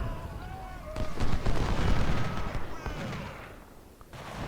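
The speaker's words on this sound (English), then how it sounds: "Howitzers, open up." Howitzer artillery firing in the Ultimate General: Civil War video game during the Cedar Mountain battle, a rolling cluster of booming cannon blasts and rumble, loud and layered with battle noise.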